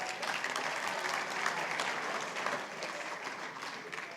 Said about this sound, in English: If you want to clap, please clap well.